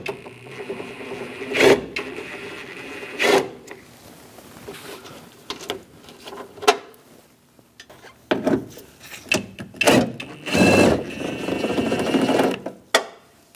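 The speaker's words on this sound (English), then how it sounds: "Using a 10mm socket, we're going to take out the 2 bolts underneath" A 10mm socket wrench taking out bolts underneath on a 2000-2006 Mini Cooper front door, heard as irregular close metallic clicks, ratcheting and knocks scattered through the stretch.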